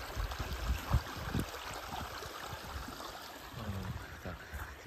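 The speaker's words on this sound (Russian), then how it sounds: "И течет ручей. Ручей с родника." A spring-fed mountain stream runs across a hillside plot, giving a steady, close babbling and trickling of water with a few low gurgles, no voices.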